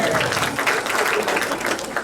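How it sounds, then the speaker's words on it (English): A stand-up comedy club audience applauds briefly, a dense burst of clapping that stays steady and loud for a couple of seconds. "Round of applause."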